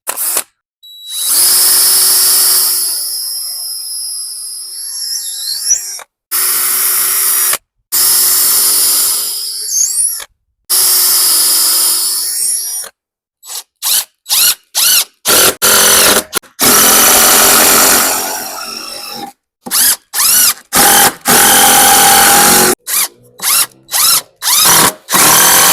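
Power drill driving deck screws into wooden boards, loud whining bursts that start and stop, a few long runs followed by many short rapid pulses.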